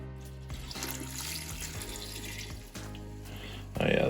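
Vinegar pours into an air plant display, a continuous close splashing and trickling liquid stream that runs for a few seconds and swells louder toward the end, with no talk over it.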